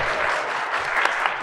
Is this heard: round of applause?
yes